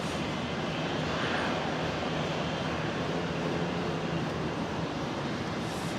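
ATR turboprop airliner at Brisbane Airport, a steady broadband engine roar holding at even loudness throughout, fairly close with no voices.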